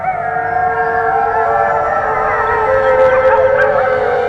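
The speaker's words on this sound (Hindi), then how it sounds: "दिन में सियार के रोने की आवाज।" A wavering, high-pitched howl of a jackal in daytime, rising and falling continuously, close and fairly loud.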